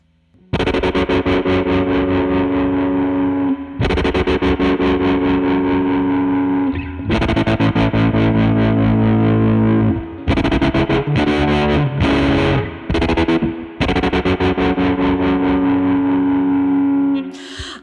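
Distorted electric guitar chords through a Dreadbox Treminator tremolo pedal, the pulsing volume wobble gradually becoming slower, loud and continuous with no voices.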